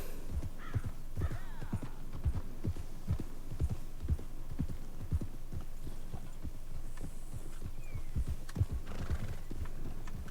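Horse hooves clip-clop in a steady rhythm in Red Dead Redemption II, with a neigh breaking in, over a low game hum and no talk.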